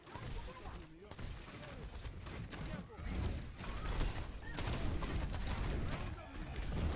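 Rapid weapon fire in Overwatch crackles in dense bursts against Reinhardt amid busy game effects, moderately loud and continuous throughout the fight.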